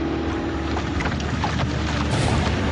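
A boat motor drones steadily at close range over wind noise as the boat slows toward a pier at low tide, a continuous churning rumble without voices.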